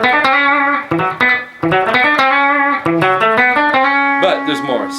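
An electric guitar with distortion and effects plays a riff: a flowing, jazzy run of sustained, overlapping notes and slides, loud and close with no voices.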